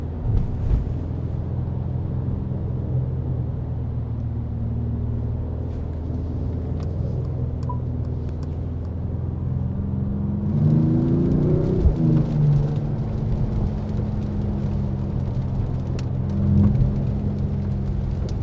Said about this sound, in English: It really sounds like a perfect AMG car that you can actually use daily